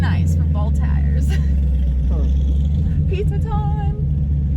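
A manual rear-wheel-drive Camaro accelerates hard, its engine a loud, steady low rumble throughout, with a voice talking over it.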